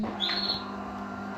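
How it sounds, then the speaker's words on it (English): A pet bird gives a single short, bright chirp indoors, rising sharply and fading within half a second over a quiet hum. "it's my mom's bird"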